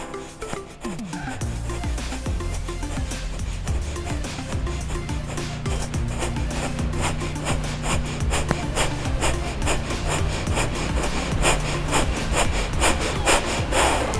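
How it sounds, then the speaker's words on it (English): Rapid, forceful breath-of-fire breathing during an upper and lower back mobility drill, a fast, even train of sharp exhalations repeating close to the mic for the whole stretch. "Breath of fire."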